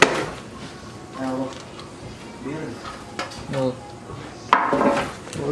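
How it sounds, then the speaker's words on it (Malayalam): A cake pan for an Oreo biscuit cake is flipped over onto another kitchen vessel, giving scattered metal clanks and scrapes that end in a sharper clatter, while a voice speaks between the sounds. "പാത്രം എടുത്ത് വെച്ച് കമത്തിയിട്ട്"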